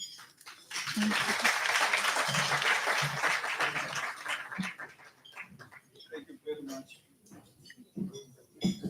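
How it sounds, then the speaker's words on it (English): Applause for the chairperson of the National Press Club at the Newsmaker of the Year 2023 event: a dense round of clapping that swells, then thins into scattered claps under murmured voices. "I think she deserves another round of applause"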